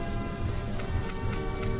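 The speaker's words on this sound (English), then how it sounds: "It's kind of a rainy day, you know." Steady patter of rain in the Harvest Moon Magical Melody video game, a soft, even hiss of drops that stays faint and continuous throughout, alone without voices.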